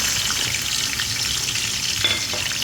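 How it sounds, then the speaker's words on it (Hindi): Finely chopped onions fry in hot oil with a loud, continuous, close sizzle and crackle, a faint stirring scrape showing through near the end. "हमने प्याज बिल्कुल बारीक बारीक कटिंग कर लिए हैं,"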